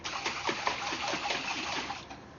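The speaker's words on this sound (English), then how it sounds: "I am going to go ahead and add a 1/2 cup of water, and we're going to give this a shake." Half a cup of water sloshing inside a jar of tikka masala sauce as it is shaken, a steady wet splashing rhythm close by, lasting a couple of seconds without talk.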